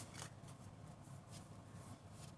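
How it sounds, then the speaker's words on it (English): Wild Unknown Tarot cards being shuffled by hand, a run of soft papery riffles and slaps repeating steadily at close range, with no talking. "Give me a second while I shuffle this."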